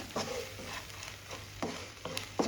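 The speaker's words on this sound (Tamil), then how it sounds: "உப்பு சேர்த்துக்கிட்டு நல்லா வதக்கி விட்ருங்க." Tomato masala with salt and ground spices is stirred in a pan, giving a faint low sizzle with soft, periodic scraping strokes of a spoon.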